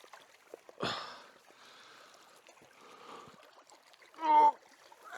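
A Dartmoor river runs past mossy, slippery rocks at a crossing, a soft steady rush of flowing water with a sharp splash early on and a brief tonal chirp near the end.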